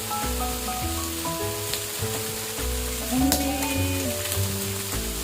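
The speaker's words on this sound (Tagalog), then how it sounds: "nilagyan ko ng konting mantika para kumatas din yung mantika, yung pinakataba niya" Pork belly (liempo) frying in a little oil, a steady close sizzle that runs throughout under sustained tonal background music.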